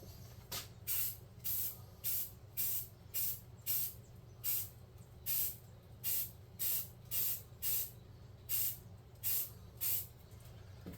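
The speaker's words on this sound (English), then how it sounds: "use a brown or a red or a tan or some kind of color spray paint" Short bursts of brown, red or tan aerosol spray paint hiss in a quick, uneven rhythm, about fifteen of them, close by with a low hum underneath.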